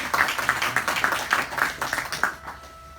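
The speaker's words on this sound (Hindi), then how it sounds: "चलिए तालियों से इनका स्वागत करें।" Audience at a Sanatan Dharma temple gathering in Brisbane clapping together to welcome a young bhajan singer, a steady burst of applause that fades out toward the end.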